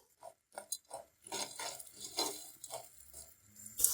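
Popcorn kernels coated in salt and ghee rattle and scrape in a pot as they are stirred over low to medium heat, coming in soft rhythmic swishes, quiet and close with no voices.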